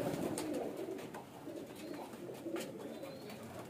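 Soft, throaty cooing from a large-sized pigeon carries on in a low, unbroken warble against a constant hiss, nearby and unaccompanied by speech.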